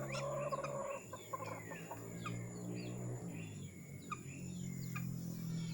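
A male duck calls and chatters nearby in repeated bursts, with some layered clucking and squawking sounds against a steady background hum.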